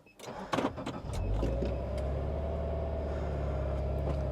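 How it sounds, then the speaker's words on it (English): A 2014 Subaru Forester starts: a few clicks and clunks, then the engine cranks and catches into a steady low idle that hums on close by. "We're going to get the car on."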